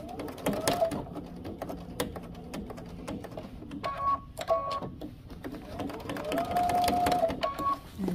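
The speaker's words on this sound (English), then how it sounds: "I'm just gonna stitch it sideways so that I miss that little metal part that's on the zipper" A sewing machine stitches sideways across a zipper near its metal stopper, running in short whirring bursts with pauses and fabric handling between runs, close and moderately quiet.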